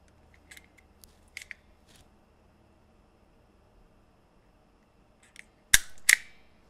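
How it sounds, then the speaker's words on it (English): Wire cutters snipping the ends of a small breadboard jumper wire, a few faint clicks early on, then two sharp, loud close snips near the end. "And I'm going to cut the ends."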